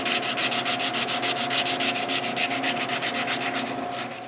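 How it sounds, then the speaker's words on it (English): A wooden lid of a dog treat bowl has its smooth round edges sanded by hand, a loud, close, rhythmic rasping of quick back-and-forth strokes that continues steadily throughout. "The first thing I do is sand all the smooth round edges."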